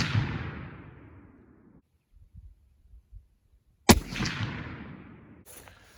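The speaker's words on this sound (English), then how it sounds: "Fire again" Rifle shots fired while zeroing a scope, two sharp loud reports a few seconds apart, each followed by a long fading rumble outdoors, with a faint soft knock in the quiet gap.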